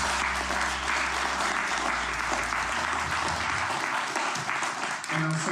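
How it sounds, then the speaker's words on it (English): Audience applause for panelists at a live podcast recording, a dense steady clapping from a room crowd that fills the whole stretch, with a low hum under it early on and a brief dip near the end. "Please give a round of applause to our panelists."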